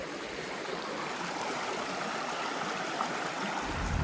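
Hatchett Creek in central Alabama flows in a steady, close rush of water that continues unbroken throughout, with no voices.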